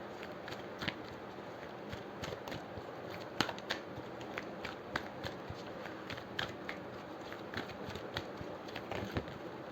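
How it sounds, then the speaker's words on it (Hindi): A deck of oracle cards is shuffled by hand, a steady run of soft flicks and snaps close up, continuing for several seconds in a quiet room. "हम पहले ये कार्ड्स निकाल लेते हैं।"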